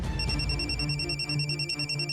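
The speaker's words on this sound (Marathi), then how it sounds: "तुझ्या मामाचा फोन आहे, घे उचल" A telephone rings with an incoming call in a home scene from a Marathi TV serial. It makes a repeating electronic tone in regular pulses, fairly loud and close, with no voices.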